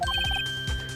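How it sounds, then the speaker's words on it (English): A bright electronic phone ringtone from the Phoenix Wright: Ace Attorney video game, a quick repeating melodic chirp that plays loud and clear, then a short low tone, with no talking. "I heard a phone ring just now. One of those newfangled ringtones."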